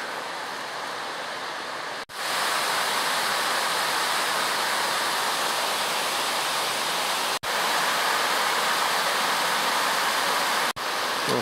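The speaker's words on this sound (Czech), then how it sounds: "Ale my se jdeme podívat až tam k tomu vodopádu." Waterfall along a levada on Madeira, a heavy, continuous roar of falling water close by, interrupted only by brief sharp cuts.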